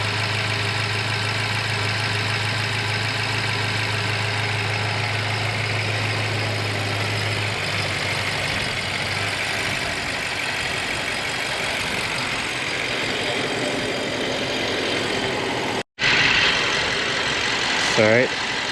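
A car engine idles steadily after an engine wash while the water evaporates off it, a close, even rumbling hum that continues for a long stretch, then breaks off briefly before resuming with a voice heard over it.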